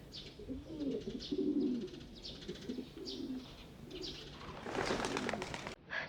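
A pigeon coos in soft repeated low phrases while wings flap and flutter close by, ending in a louder burst of wingbeats, faint overall with no speech.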